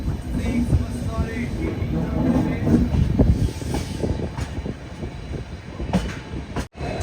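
A Mangaluru Central–Vijayapura special express pulls into Bantwal railway station, heard from on board a general-class coach as a loud, steady rumble and rattle of the wheels and carriage.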